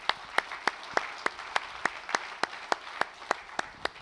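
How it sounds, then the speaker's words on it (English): Steady, evenly spaced claps, about four per second, ring out over a soft background hiss, like a crowd clapping in rhythm. "Once again, round of applause for all of them."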